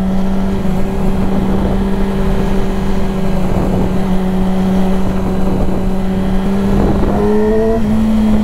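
A Yamaha R7 sport motorcycle drones steadily while being ridden, its engine note held loud and close, then climbing in pitch as it revs near the end.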